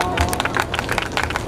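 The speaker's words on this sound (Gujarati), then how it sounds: "ખૂબ તાળીઓના ગણગણાટ." Audience at a mass wedding held by a charitable trust claps in a dense, continuous wash of applause, with crowd murmur and voices mixed in.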